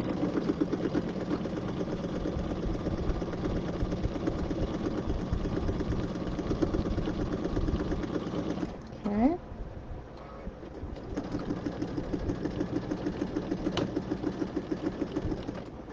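A sewing machine runs a 3/8 inch seam along the bottom of a fabric tote purse, a steady close whirring hum that stops briefly partway through, then starts up again and continues.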